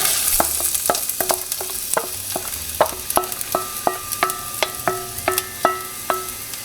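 Garlic, onions and leeks frying in olive oil for minestrone vegetable soup, a constant sizzle punctuated by a regular series of sharp metallic taps and clinks from a utensil in the pot, close up.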